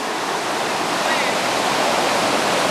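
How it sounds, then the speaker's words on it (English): A river flowing close by, a steady broad rushing of water that holds evenly throughout at fairly loud level. "We're right on the river."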